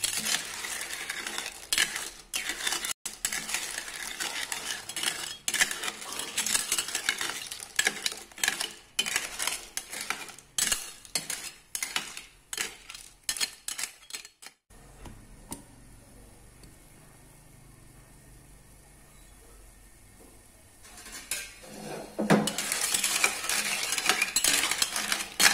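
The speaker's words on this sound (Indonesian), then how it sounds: "Oke, kita aduk." Blood clams being stirred in a pot over medium heat, a busy clatter of utensil scraping and shell clinks close by for about fifteen seconds, then a quieter simmering stretch before the clattering returns.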